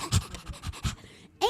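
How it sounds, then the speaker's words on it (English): An actor voicing a dog panting excitedly in an audio drama, quick rhythmic close-up huffs for about a second, followed by the start of a spoken line. "Dusty jumps up at him, panting excitedly."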